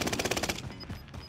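Automatic gunfire in the Warzone battle royale game, a fast rattling burst of about ten evenly spaced shots for half a second, then quieter scattered reports and faint metallic pings trailing off.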